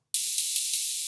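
A bright, sustained cymbal-like wash of high hiss starts abruptly and holds steady, with faint pulses recurring about every fifth of a second.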